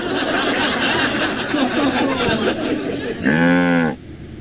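A single drawn-out cow moo in the Sam and Max video game, loud and close, rising over a busy background of game music and sound effects for under a second.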